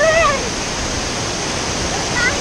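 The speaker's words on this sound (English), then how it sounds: "Grabe, ang lakas na ngayon ng falls." Loud, close waterfall at Majayjay, Laguna, a dense, unbroken roar of rushing water filling the whole moment, with faint brief vocal sounds over it at the start and end.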